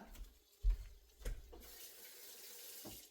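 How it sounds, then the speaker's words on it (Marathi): Water splashes and pours in a few short bursts into a pan of stuffed eggplant masala, then settles into a steady hissing stream, fairly quiet and close. "हे जे मिक्सर मधलं पाणी होतं हे घालते आणि थोडंसं गरम पाणी सुद्धा घालते"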